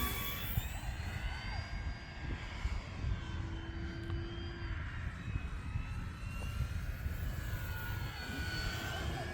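A small engine whines in the distance, its pitch drifting up and down as an E-flite T-28 1.2m radio-controlled model plane circles overhead on a wet day.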